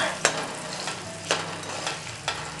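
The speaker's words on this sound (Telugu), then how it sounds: "దాంట్లో కొంచెం పసుపు వేయాలి. వేసి వేయించుకోవాలి." Tempering fries in a pan with turmeric added, a constant close sizzle broken by four sharp stirring scrapes spaced through the few seconds, with no talking.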